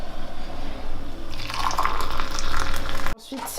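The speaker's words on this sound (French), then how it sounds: "Et là, je vais mettre 3 verres d'eau chaude, en essayant de ne pas se brûler." Hot water poured onto black soap in a container: a continuous splashing fill that grows fuller and brighter, then cuts off abruptly near the end.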